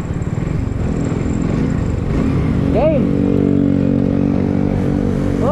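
Tricycles, motorcycles with sidecars, pass on a road with a steady buzzing engine drone and a brief rising whine from one passing by, a voice speaking briefly over it.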